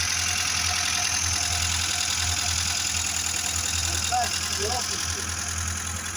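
A Zhiguli engine idles with a misfiring spark plug, a steady low rumble with a slightly uneven, shaky beat, close and continuous, while people talk in the background.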